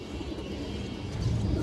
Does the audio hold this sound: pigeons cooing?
yes